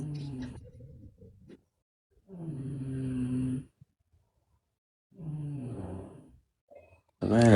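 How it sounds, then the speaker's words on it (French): A woman snores close by, three slow, heavy rasping snores separated by quiet pauses, with a sharper burst of sound at the very end. "Elle est en train de ronfler."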